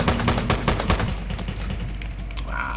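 Rapid bursts of gunfire in the video game Teleglitch, loud and close, with sharp repeated shots crowding together, then tailing into quieter game sounds.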